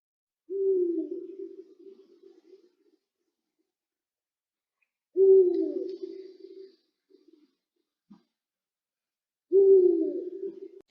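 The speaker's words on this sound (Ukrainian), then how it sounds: "Чи здогадалися ви, хто кричить? Так, сова." Three long, low owl hoots, each a drawn-out quavering call, spaced several seconds apart with silence between, clear and fairly close against a quiet background.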